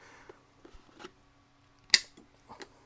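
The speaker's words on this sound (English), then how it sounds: "I'll go ahead and try cutting something here because I need to cut the ends off this" Cutters on a wire lug crimp tool snip through the ends of wire, a single sharp clipped snap standing out loud and close amid small handling clicks and taps.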